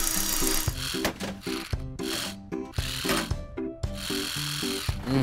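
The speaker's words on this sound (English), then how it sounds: "A screwdriver will do the job." Cartoon screwdriver effect in a kids' game repairing a dinosaur car, with rhythmic mechanical ratcheting and clicking, loud and busy, layered over a bouncy musical backing.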